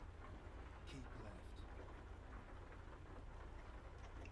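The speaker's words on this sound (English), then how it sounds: "in ATS, World of Trucks, and of course it's raining because I turned the rain function back on" Steady, soft rain falls in the American Truck Simulator game, a constant hiss with a few faint taps and no other clear sounds.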